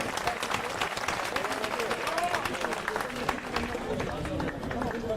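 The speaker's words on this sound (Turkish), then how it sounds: "Ebru'yu da bir alkışlayabilir miyiz?" Applause from an audience at a spearfishing competition award ceremony, honoring a women's team athlete; steady dense clapping mixed with crowd babble runs throughout, fairly distant and even in level.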